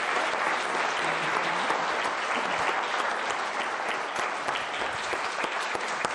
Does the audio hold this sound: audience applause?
yes